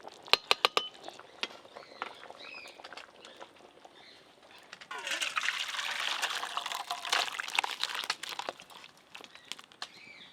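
Cooked goat meat curry poured out of a pot: sharp metallic taps and clinks of a spoon against the pot at first, then a few seconds of wet, sloshing pouring, ending with more scattered scraping clinks; no talking.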